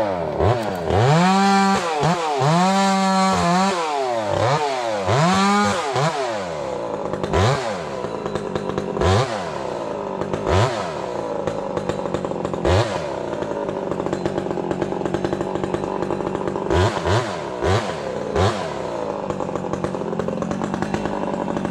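A chainsaw cuts through logs from felled dead trees, the engine revving up and down repeatedly as it bites into the wood, loud and close, settling into a steady snarling drone with periodic throttle blips.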